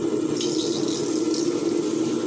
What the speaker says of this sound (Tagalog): mabuhusan man siya ng napakaraming tubig